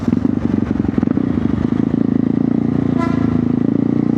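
A KTM Duke 390 motorcycle engine revs hard and steadily nearby as gears are shifted without the clutch, giving a continuous buzzing drone with a brief sharp blip partway through.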